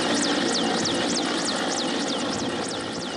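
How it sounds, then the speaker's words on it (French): An air force helicopter hovers during a heliborne descent demonstration by fully equipped operators, its rotor chopping in a steady rhythmic whine over a loud, continuous engine roar, with no voices. "démonstration d'héliportage d'opérateurs entièrement équipés utilisant des techniques simples de descente pour professionnels à partir d'un hélicoptère de l'armée de l'air"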